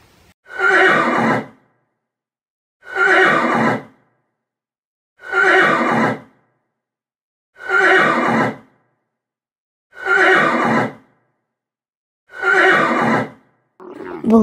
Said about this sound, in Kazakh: Жылқы кісінейді.